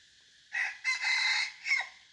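A decoy rooster used to lure wild red junglefowl gives one loud, clear crow in several stretched segments, close and alone against a quiet background.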